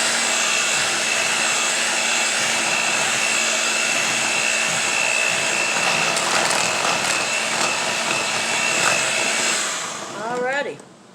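An electric hand mixer whirs steadily through coconut pound cake batter with coconut milk, a loud, close, continuous motor drone that cuts off near the end.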